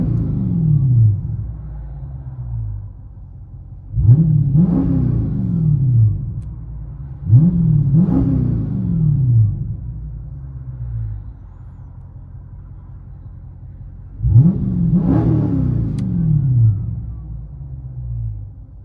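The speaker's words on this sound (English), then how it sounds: "This sounds so good, guys. They never disappoint. FLOWMASTER Outlaws." A 2023 Dodge Charger Scat Pack with a 392 engine and Flowmaster Outlaw exhaust revs four times, each a sharp, loud blip that drops back to a deep, rumbling idle, heard up close.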